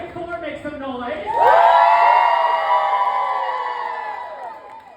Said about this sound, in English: Deck 4, make some noise.